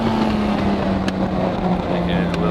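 Lamborghini Miura P400SV engine in Assetto Corsa holding a steady high-rev drone near 8,000 RPM, loud and continuous with a faint voice underneath.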